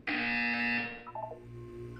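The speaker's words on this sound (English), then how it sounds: "You will hear a buzzer." Loud electronic buzzer in a Portal 2 test chamber in a video game, a sustained harsh tone holding for nearly a second before cutting off, followed by a few short electronic blips over a low background hum.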